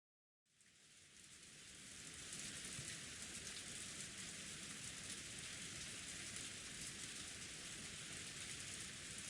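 Rain falling in the visual novel game Umineko When They Cry, a soft, steady hiss that fades in quickly and then holds evenly throughout, quiet and with no voices.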